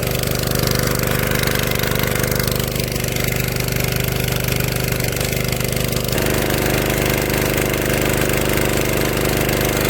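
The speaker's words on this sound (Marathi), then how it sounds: "मशीन आता चालू केलं आहे." An engine-powered pesticide sprayer runs in a mango orchard with a loud, steady mechanical drone and a rough, knocking engine texture that continues unbroken close to the listener.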